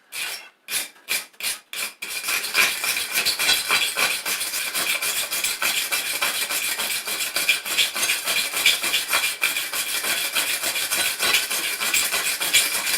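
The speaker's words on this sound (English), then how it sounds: "I'm going to brush this." A wire brush scrubs scale off a forged steel teardrop punch. A few sharp separate strokes come first, then a fast, continuous rasping scrub runs close and loud to the end.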